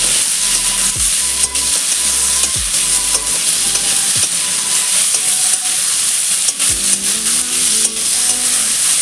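Prawns frying gently in oil in a kadai, with a continuous hissing sizzle and occasional utensil knocks and stirring scrapes, close up and steady for the whole stretch.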